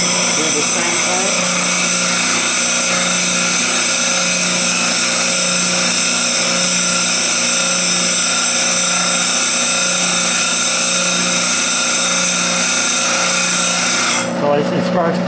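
A bench grinder sharpens the bevel of a skew chisel, throwing sparks. The motor gives a constant, loud, even whine with a steady grinding hiss throughout, and a brief shift in tone comes near the end.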